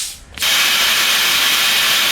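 Plasma cutter slicing through a metal electrical box cover, a brief quiet moment giving way to a sudden loud, steady hissing roar that holds evenly to the end, close up.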